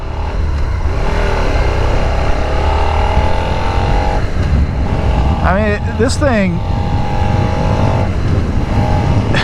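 A 2020 Suzuki SV650 motorcycle engine runs steadily throughout, with a revving rise and fall near the middle, while someone talks over it much of the time.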